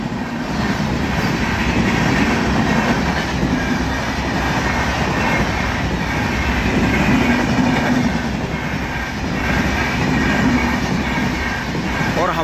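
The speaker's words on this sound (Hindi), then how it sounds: "लो जी ट्रेन भी निकल गई है।" A train rolls past close by with a loud, continuous rumble and rhythmic clickety-clack of wagons on the track, holding steady throughout.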